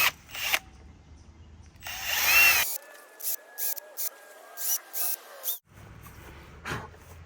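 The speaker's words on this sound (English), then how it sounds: "now we're going to drill our pilot holes." A power drill drills pilot holes while an interior door is installed, coming in several short, close bursts of whirring with brief pauses between them.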